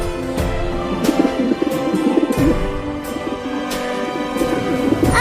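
A cartoon pigeon coos softly over and over in a low, throaty, repeating rhythm, with faint background noise and no talking.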